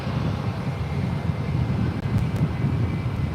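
An airliner taking off from runway 1 left at San Francisco International Airport, a continuous broad engine roar with low rumble, heard from a distance with some wind buffeting and no talk.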